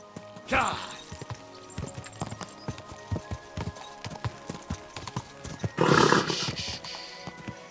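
Horse hooves clip-clop steadily in Kingdom Come Deliverance II, a run of moderate, evenly spaced footfalls with a louder burst of noise near the end.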